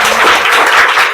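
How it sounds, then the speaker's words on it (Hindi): Loud, steady applause from an audience at a Teacher's Day program, dense clapping sustained evenly throughout with no talk over it. "जोरदार ताली से स्वागत करें।"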